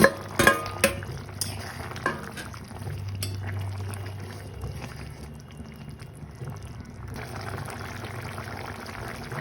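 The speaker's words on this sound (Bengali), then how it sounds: "এইরকম ঝোলটা ফুটে উঠলে আমি ভেন্ডিগুলো দিয়ে দিব" Potato and okra curry gravy comes to a boil in a pan, with a soft, steady bubbling and simmering hiss broken by a few sharp clinks and knocks early on, and no voices.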